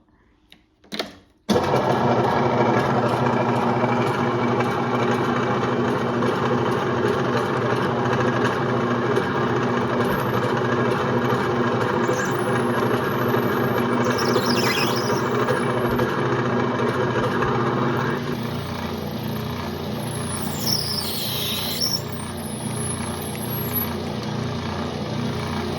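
A steady mechanical whir of a motor-driven drill press starting up and running continuously while drilling parts for antique banjo tensioners, with a change in pitch partway through and faint squeals.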